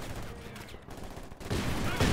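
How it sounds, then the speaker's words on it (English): A Maxim machine gun fires during a World War II video game battle between Soviet and German forces, its rattling bursts blending into dense, continuous gunfire noise that grows louder toward the end. "Maxim is also opening fire here on the Germans"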